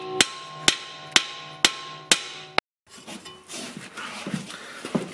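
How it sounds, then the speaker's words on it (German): Sharp metallic hammer blows struck on the steering tie rod of a Skoda Superb during an axle boot replacement, five evenly spaced loud impacts with ringing decay, then quieter rustling and scattered knocks. "Ich versuche das erstmal mit ein paar Hammerschlägen hier drauf, um den Lenker rauszukriegen."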